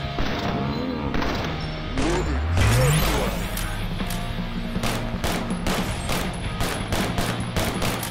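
Rapid bursts of assault rifle fire aimed at zombies in the video game Drunk or Dead 2 crackle and clatter repeatedly, loud and close, with a short rising tone in the middle.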